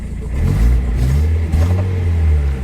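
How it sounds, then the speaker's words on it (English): A Mazda Miata, parked in a driveway and being stripped of its air conditioning and power steering, is revved near the microphone, its engine swelling in two short surges above a rough idle. "Let's rev it up a bit."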